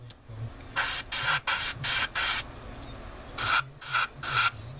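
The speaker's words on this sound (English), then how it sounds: "Another reason I'm spraying this right now is because there's a part that actually has to be painted inside here." Spray paint hisses onto a taped-off plastic model kit part in short, close bursts: five quick sprays in a row, a pause, then three more, with no talking.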